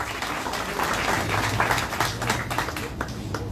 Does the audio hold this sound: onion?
no